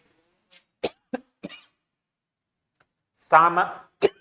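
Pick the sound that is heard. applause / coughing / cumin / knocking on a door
coughing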